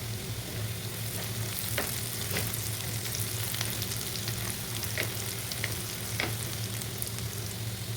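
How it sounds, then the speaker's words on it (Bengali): Onions frying in oil in a pan for a sea-fish dish, a steady close sizzle with crackling pops and occasional stirring clicks throughout, no voices. "এখন আমি এর মধ্যে পেঁয়াজগুলো দিয়ে দিচ্ছি, আর পেঁয়াজগুলোকে ভালো করে ভেজে নিতে হবে।"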